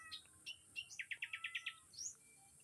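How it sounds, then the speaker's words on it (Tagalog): Birds chirp faintly on a provincial morning. Scattered single calls come first, then a quick run of about eight even notes, then another call, all soft and at some distance. "you will hear the sound of different birds"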